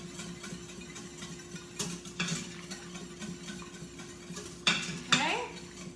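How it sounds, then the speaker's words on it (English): A spoon stirs heavy cream in a bowl, with a few sharp clinks against the dish near the end over a quiet kitchen background. "I'm just going to stir that there"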